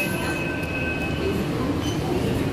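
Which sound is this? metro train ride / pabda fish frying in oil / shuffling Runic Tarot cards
metro train ride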